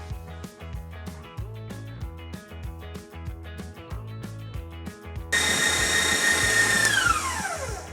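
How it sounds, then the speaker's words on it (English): An electric mixer whisks egg whites toward soft peaks for a chocolate hazelnut pavlova. A loud, steady motor whine cuts in abruptly partway through, following a stretch of rhythmic background music. "I'm gonna turn them on and whisk them until they reach nice soft peaks"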